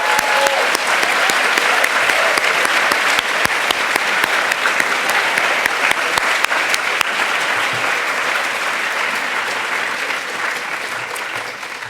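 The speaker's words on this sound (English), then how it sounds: "I think you should give yourself a round of applause." Graduation ceremony audience gives a long, loud, dense round of applause, many hands clapping steadily and close, tapering slightly toward the end.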